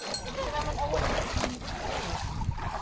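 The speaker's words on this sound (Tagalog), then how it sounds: "Ang may alon." Sea waves slosh and splash around a small boat near an island, a close watery wash under people chatting.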